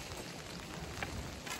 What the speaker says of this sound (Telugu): అప్పటి నుంచి స్నో విత్ రెయిన్ అయితే పడుతూనే ఉంది